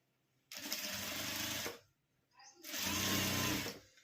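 A sewing machine stitches folded blouse fabric in two short, close, steady runs with a brief pause between them.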